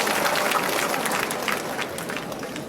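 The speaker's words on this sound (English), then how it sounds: "Another round of applause." An audience at a medical college gathering gives a round of applause, a steady wash of many hands clapping at moderate loudness that slowly thins toward the end.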